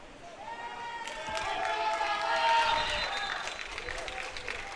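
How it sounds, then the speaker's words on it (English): A large football stadium crowd roars and claps during a Philippines Football League match, building to a peak and easing off, with a commentator's voice over it. "We could say it's applause from both sides."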